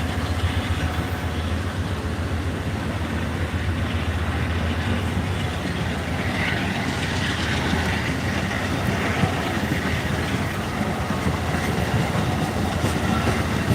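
Train rolling past trackside in Louisa, Virginia on a hot day, a steady loud rumble of railroad cars that holds nearly unchanged for the whole stretch, with no talking.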